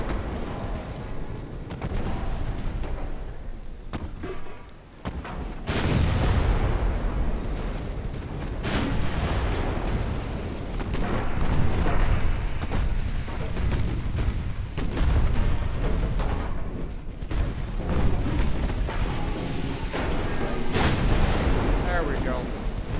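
Warship guns in the naval game Ultimate Admiral Dreadnoughts boom repeatedly in heavy, rumbling salvos, with dense explosions layered over one another, and a voice talks beneath the din.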